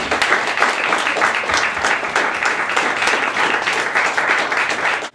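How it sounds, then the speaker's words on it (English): A debate audience breaks into a steady round of applause for student-union VP Activities candidates at a 2012 university event, dense and loud from start to finish before cutting off sharply at the end. "big round of applause for our VP Activities candidates"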